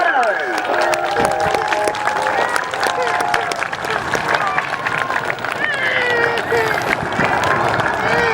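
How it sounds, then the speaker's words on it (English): Outdoor crowd applause and cheering at a seaside airshow for the Royal Air Force Aerobatic Team, steady dense clapping over wind and babble, with a voice audible throughout. "Please, a big round of applause for the Royal Air Force Aerobatic Team."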